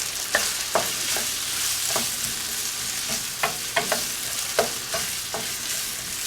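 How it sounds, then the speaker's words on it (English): Potatoes frying in a skillet for a breakfast dish, an even sizzling hiss with repeated sharp clicks of a utensil stirring and scraping the pan, close and steady. "our potatoes are browning"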